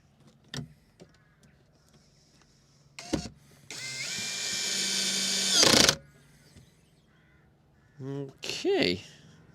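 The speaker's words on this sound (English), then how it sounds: "I'll probably put them screws in now." A cordless drill whirs in short bursts and one longer sustained run while screws are driven during a van kitchen build, fairly close and loud against a quiet room, with a few brief knocks and clicks between.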